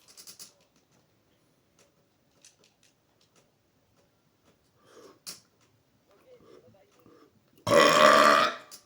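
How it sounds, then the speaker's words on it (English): A long, loud burp released as a lazy, open exhale lasts about a second at the end, after a stretch of quiet talk and small mouth noises. "it was that lazy type of burp where you just release everything"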